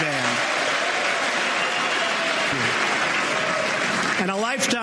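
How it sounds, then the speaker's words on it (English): Applause from an audience at a political speech, kept low and steady beneath a speaking voice and background tones, continuous clapping wash throughout. "Now, I cut that applause way down, even though it's seamless."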